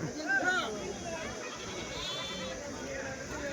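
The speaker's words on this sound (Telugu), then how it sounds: "మేకపోతులు కావచ్చు, పొట్టేళ్ళు కావచ్చు, భారీ సైజులో అయితే వచ్చాయి." Goats and rams bleating at the Kadiri weekly livestock market, a few calls rising over a busy crowd murmur and someone talking nearby.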